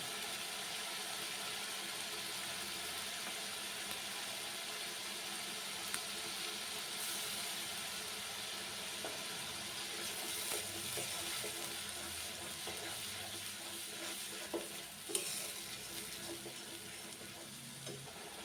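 Tomato paste sizzles and fries steadily in a pan of spiced Roop Chanda fish kalia, a continuous crackling hiss at moderate level with faint clinks and stirring.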